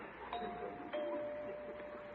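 A doorbell chimes in a home during an old radio comedy broadcast, a single sustained electronic-sounding ding over a steady hiss, with no voices heard.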